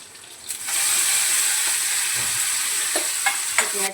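Coriander leaves sizzle loudly in hot oil that already holds cumin, garlic and curry leaves for a chutney, a steady close frying hiss with a few soft stirring clicks and no talk.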